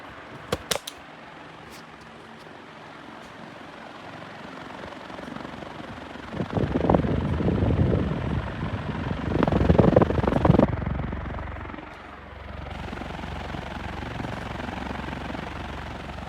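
An Envirofan 136F industrial ceiling fan runs at full speed with a steady whooshing roar and rhythmic air chop. The sound swells louder in the middle, then settles into a lower, even drone.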